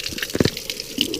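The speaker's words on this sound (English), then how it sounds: "right now we are filling up the buckets for all the birds" Water running and splashing into buckets filled outdoors for ducks and chickens in freezing weather, with irregular close sloshing and dripping.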